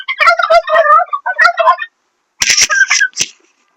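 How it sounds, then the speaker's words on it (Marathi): A domesticated turkey cock on a farm gobbles loudly and close by in two separate rattling bursts with a short silent gap between them. "तर बघा आता हे तुम्ही बघू शकता, हे टर्की आहे."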